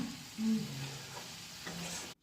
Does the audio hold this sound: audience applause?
no